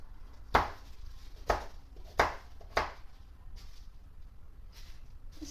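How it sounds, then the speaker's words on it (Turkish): A knife chops carrots sharply on a cutting board four times in a steady rhythm, then a few fainter cuts follow. "havucumuzu doğrayalım."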